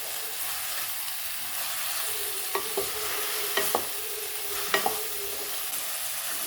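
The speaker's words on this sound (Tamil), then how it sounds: "இதையும் சேர்த்துட்டு நல்லா வதக்கி விட்டுக்கோங்க." Sliced bitter gourd sautéing in a pan over low flame, a steady close sizzle and hiss with a few sharp scraping stirs of a utensil against the pan, with no voices.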